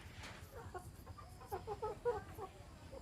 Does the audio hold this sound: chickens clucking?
yes